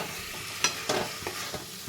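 A spatula stirs ash gourd curry in a pan for a festive offering dish, sounding as several distinct scraping strokes over a soft, steady sizzle, fairly close and alone without speech.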